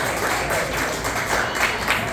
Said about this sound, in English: How about a nice round of applause from the two dads?